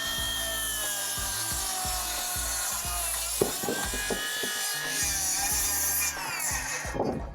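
A power saw cuts through timber ceiling rafters for a hipped garage roof on a building site, a continuous loud whining buzz with rough, uneven cutting texture throughout, close by.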